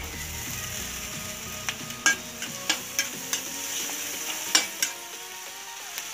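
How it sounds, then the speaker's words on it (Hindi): Large cut potato pieces fry in a pan for masala pasta, a low sizzle under a series of sharp ticking and scraping spatula strokes spaced across the stretch. "तो अब मैं इसके अंदर एक बड़ा आलू डाल रही हूँ"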